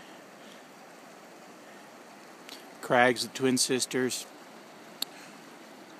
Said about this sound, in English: Fish Creek flowing in the background.